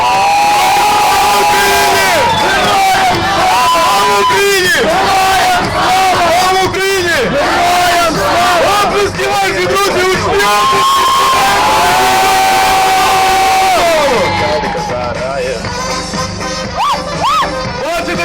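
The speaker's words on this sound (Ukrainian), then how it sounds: "Активніше зустрічаємо колону оплесками." Dense crowd at a street rally in Ivano-Frankivsk cheering and shouting loudly as a column arrives, a continuous roar of many voices with whoops and chants, no distinct pauses throughout.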